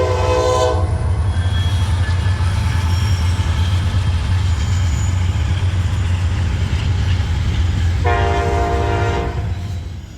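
A Norfolk Southern intermodal freight train rumbles steadily past, loud and close, with a continuous low locomotive drone and a horn blast at the start and again near the end.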